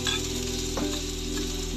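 Garlic sautés in a hot pan as a base for salmon sinigang in miso, giving a steady close sizzle and crackle over a faint low hum.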